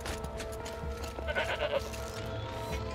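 Goats bleat in Horizon Zero Dawn: The Frozen Wilds, a few faint, nasal cries over a steady background hum of game ambience.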